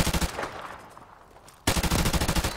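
Rapid M16 rifle bursts crack in a tight, rhythmic stream in a competitive shooter match, a short volley, a brief pause, then another loud string of shots.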